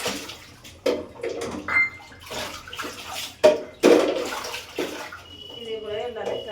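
Dishes and containers are washed under a running tap, with splashing bursts and rinsing surges rising and falling at close range while someone talks over the work.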